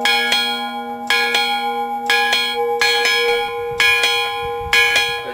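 A bronze tower clock bell rings in a series of about six loud, resonant strikes, roughly one per second, each tone lingering and overlapping the next.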